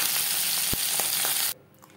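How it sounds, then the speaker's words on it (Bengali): Aar fish frying in hot oil in a pan, a steady loud sizzle with a few soft clicks, which cuts off abruptly near the end, leaving quiet. "পরের মাছ একইভাবে ভেজে নেব।"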